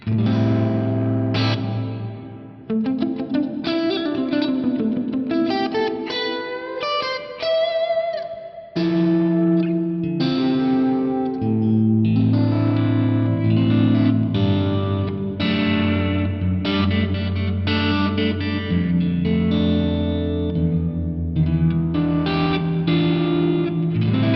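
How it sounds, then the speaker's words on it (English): Electric guitar chords through an Axe-Fx III drenched in a lush, washy ambient reverb, sustained and swelling, with long shimmering tails blending the notes together. "It's a really, really sweet ambient style reverb in there."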